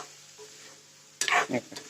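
Spices sizzle and crackle in hot oil as tempering for a soybean curry, starting suddenly after a quiet stretch, with a stirring scrape mixed into the bursts.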